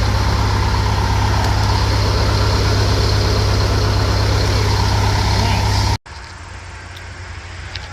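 A bus engine runs after a transmission upgrade, a loud steady idle with a low rumble that cuts off abruptly near the end, leaving quieter background sound.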